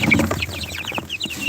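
Young chicks, two to three weeks old, cheep in quick, high, overlapping peeps close by with no talking.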